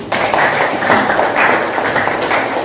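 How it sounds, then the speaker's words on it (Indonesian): A classroom of students claps together, a dense and loud continuous patter of many hands that runs evenly for a few seconds. "Ya, beri tepuk tangan."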